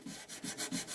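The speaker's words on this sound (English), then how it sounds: "Most people that I know hate sanding." Sandpaper rubs over an olive wood platter in quick, rhythmic back-and-forth strokes, about four close scratchy passes in one second with no voices.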